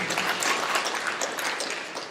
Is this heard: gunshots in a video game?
no